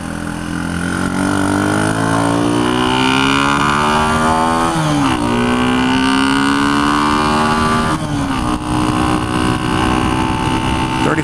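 A 1976 Honda CB125S, a small 125 cc motorcycle, drones steadily and loudly while being ridden, its engine pitch rising through the gears with two audible shifts where the tone drops before climbing again.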